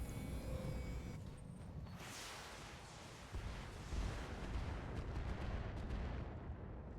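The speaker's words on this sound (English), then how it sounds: "So the explosion was contained." A mech's ammunition explodes in the BattleTech video game, a loud, sustained rumbling blast with crackling debris that holds steady throughout, without speech.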